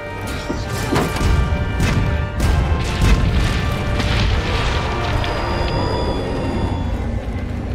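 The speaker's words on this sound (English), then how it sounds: "Fire it from the ballista when you're ready." Heavy booming impacts and crashes from a ballista firing in Monster Hunter World, loud and dense, with repeated thuds over the first few seconds trailing into a sustained rumbling roar.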